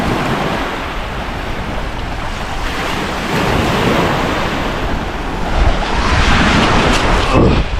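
Waves break and wash steadily onto a beach at Indiana Dunes, a loud, continuous roar of surf mixed with gusty wind buffeting the microphone.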